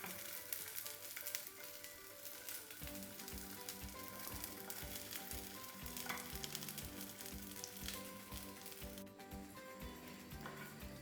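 Pieces of chicken crepe fry in a little oil, giving a steady, close sizzle with a regular pulsing crackle and occasional stirring, heard alone without talk.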